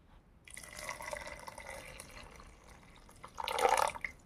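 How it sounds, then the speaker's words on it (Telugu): Warm milk poured into a pot of cooked rice, a soft liquid stream splashing steadily and swelling louder toward the end, close and fairly quiet with no talk. "మేము కొలత దీంట్లో వేసాము కాబట్టి ముందుగానే పాలు వేసేస్తున్నాను."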